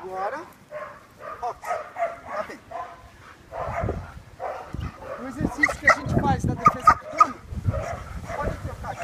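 A dog barks and yips in excited bursts during bite protection training, growing louder and busier toward the end, with some handler voices mixed in.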